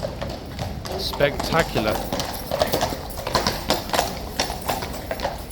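Hooves of a large King's Guard cavalry horse clip-clop in a steady rhythm during the Changing of the Guard, moderately close, while a voice briefly speaks over them.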